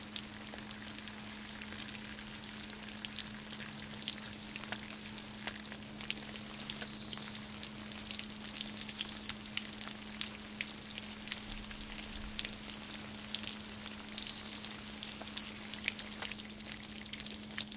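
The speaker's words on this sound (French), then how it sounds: "on a des poussières qui coulent de ce pot et donc du coup on va venir laver comme ça le substrat jusqu'à obtenir vraiment de l'eau claire qui coule sous le pot" Water runs steadily through the substrate of a Satsuki azalea bonsai after repotting and drains out beneath the pot, a continuous soft wash with no voices.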